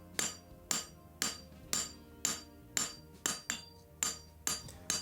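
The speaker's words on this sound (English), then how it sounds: "Clean the anvil, clean the shoe, and then we can give it a good flat and a good coining" A hammer rings on a horseshoe against an anvil, about ten sharp metallic strikes at a steady, even pace, each followed by a short ringing decay, while a straight bar shoe is flattened and coined.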